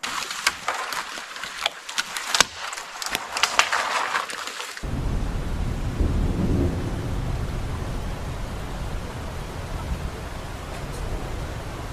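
A rotted, sideways-growing cedar tree comes down in the woods: a burst of sharp cracks and snaps, then a heavy, rumbling crash and settling noise, fairly loud and close with no talk.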